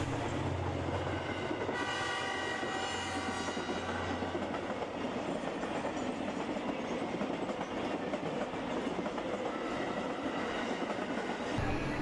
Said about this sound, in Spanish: el tradicional tren de carga, cuyo pitazo se siente en las noches de la ciudad